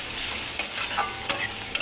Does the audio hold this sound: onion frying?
yes